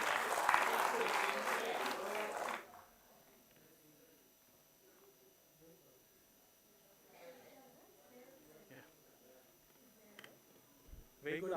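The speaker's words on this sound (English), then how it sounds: "Let us welcome him with a thunderous round of applause" An audience welcomes a speaker onto a stage with loud, dense applause that stops abruptly after a couple of seconds, leaving faint room noise and scattered small sounds.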